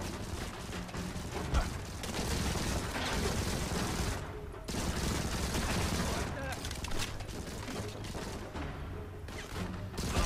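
Dense gunfire and rocket blasts from the mobile shooter game Modern Combat 5, a continuous loud clatter of shots and explosions with a brief lull midway, while someone comments over it.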